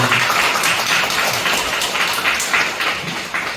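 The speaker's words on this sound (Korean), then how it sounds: "우리의 큰 박수 한번 해주시기 바랍니다." Steady applause from a church congregation during a Sunday service fills the space, a dense continuous clatter of many hands clapping without pause.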